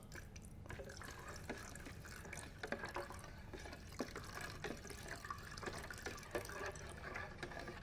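Water pours and trickles steadily into a container, diluting an acrylic-siloxane paint one to one, with small splashing drips throughout and no talking.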